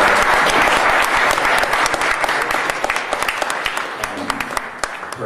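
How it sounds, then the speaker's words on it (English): A crowd applauds loudly and steadily, dense clapping that gradually thins toward the end, with no voices heard over it. "Give him a round of applause."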